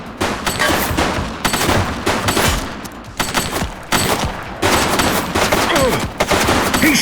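Sustained bursts of gunfire in The Precinct video game, with rapid overlapping shots and volleys that keep going almost without pause for several seconds, loud and close.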